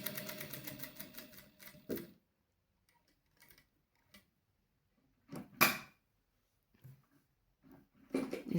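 Domestic sewing machine stitching along a marked line for a concealed inset pocket, a short rapid run of stitches at the start and then quiet, with a few faint clicks and handling sounds.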